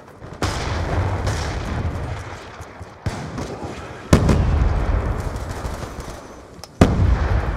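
In Call of Duty: Black Ops 2, a concussion grenade blasts with a sudden sharp crack followed by a ringing, muffled roar, with further abrupt bangs punctuating a steady rumbling wash of combat noise.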